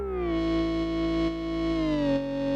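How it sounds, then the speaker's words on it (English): A sustained synthesizer tone holds a thick, buzzing chord that glides down to a lower pitch, steady and loud throughout. "So the main synth that you hear in the song"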